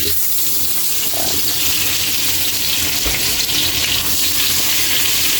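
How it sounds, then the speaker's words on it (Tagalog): Butter frying in a wok with reduced cooking oil: a loud, even, continuous hiss close by, like rushing water, with faint stirring underneath. "ilagay na natin yung butter"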